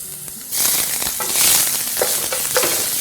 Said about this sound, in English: I'm going to start by stir frying my ginger and garlic